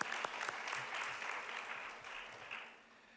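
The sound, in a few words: congregation applause in church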